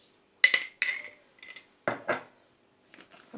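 A metal tablespoon clinks against a bowl or pan while sugar is measured, several bright, separate clicks and taps spaced unevenly, close and quiet with no talk.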